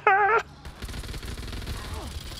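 Gunfire in the video game Back 4 Blood, a rapid burst of chattering shots after a short high tone, then scattered low thumps and rumbling action that fade under the scene.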